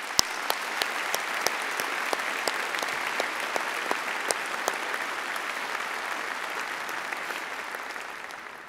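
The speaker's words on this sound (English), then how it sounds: "I'd ask you to join me in giving them a round of applause for their efforts during the pandemic." Steady applause from a seated audience at a university faculty of medicine commemoration ceremony, dense and even throughout with a few sharper individual claps standing out, fading slightly at the end.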